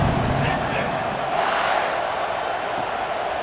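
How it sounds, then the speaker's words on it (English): Stadium crowd in EA Sports College Football 26 roars steadily at a kickoff, a dense, continuous wash of cheering and chanting that holds at an even level throughout, with faint commentary voices mixed underneath. "You think this crowd's going to get loud when their defense comes on the field?"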